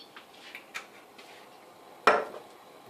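A cold pan being handled on the stove before bacon goes in for carbonara: a few light metallic taps and clinks, then one sharper clank of the pan, close and otherwise quiet.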